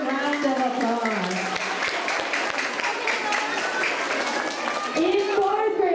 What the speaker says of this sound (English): Let's give these third graders another round of applause.